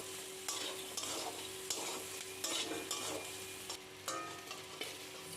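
Crab frying with crushed garlic in a hot pan of oil gives a steady close sizzle, broken by repeated scraping stirs every second or so, with no voices.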